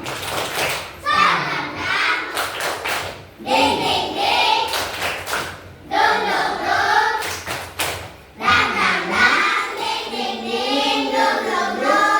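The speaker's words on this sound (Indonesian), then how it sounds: "coba ibu berikan dulu tepuk semangat" Schoolchildren in a classroom chant a rhythmic clapping cheer together, bursts of sharp, regular claps alternating with loud group voices.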